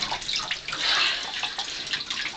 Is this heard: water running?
yes